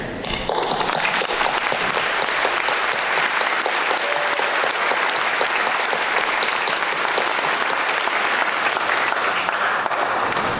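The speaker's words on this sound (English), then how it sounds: "I'd now like to applaud you all for all of your tremendous work" A graduation audience at the 2024 Achievement House ceremony applauds teachers, staff and families with loud, continuous clapping from a large crowd, dense and even throughout with a few sharper claps nearby.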